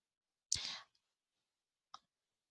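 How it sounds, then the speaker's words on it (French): Near a quiet computer, a mouse gives one sharp, close click on an OK button, followed about a second and a half later by a softer second click, with silence between. "Et je clique sur OK."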